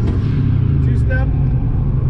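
A tuned, chipped car running 160-pound injectors idles on two-step launch control, giving a loud, steady, low engine rumble close by while someone talks over it.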